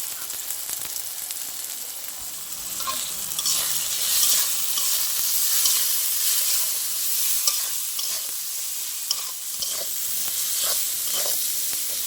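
Spinach seasoned with turmeric and salt stir-fried in a pan, a steady close sizzle with scraping stir strokes and occasional spatters running throughout, no voices.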